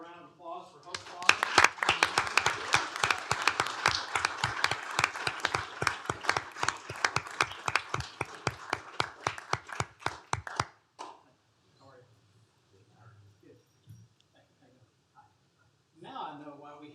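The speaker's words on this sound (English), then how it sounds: "How about a round of applause for Hope Farm?" Audience at a county commissioners court meeting claps for Hope Farm for roughly ten seconds in a steady, crisp run of hand claps, then it stops and quiet talking follows in the room.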